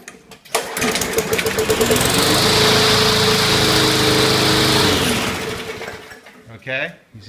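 A PoulanPro lawn mower fitted with a recycled Weedeater engine starts and runs close by, a loud buzzing small-engine drone for several seconds before cutting off, followed by a brief voice.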